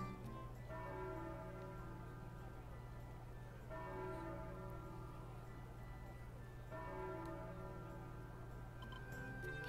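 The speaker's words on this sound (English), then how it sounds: "Hey, the bells! That's 3 strikes." Three evenly spaced bell strikes ring out in the Final Fantasy Crystal Chronicles: Ring of Fates game, each tolling tone lingering and fading before the next, quiet and without any voices.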